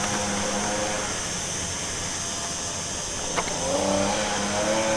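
An XLF F22A brushless RC car's electric motor whines steadily at close range, a loud continuous buzzing tone that briefly spikes and then rises in pitch as it revs up.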